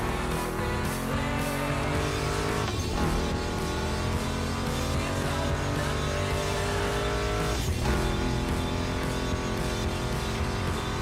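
Mustang GT muscle car engines in the racing game The Crew Motorfest roar continuously and loud, with rising revs, gear shifts and brief tire squeal under a music track.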